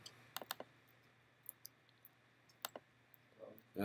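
Several sharp, quiet mouse clicks in small clusters at a computer during a programming class, with scattered single clicks and a brief rustle at the end, no talking.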